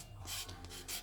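A very worn sanding sponge rubs back a painted design around its edges, giving soft, short, raspy scraping strokes that are faint and close, with no talking.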